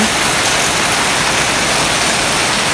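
Heavy rain pours onto a house, a dense, unbroken hiss that stays loud and even with no voices.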